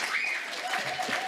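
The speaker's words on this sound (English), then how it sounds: "So give yourselves a round of applause." Audience at a panel debate on whether a resistance movement should register as a political party applauds in a steady, dense wash of clapping, moderate in level, with faint voices or whistles over it, lasting about a second and a half.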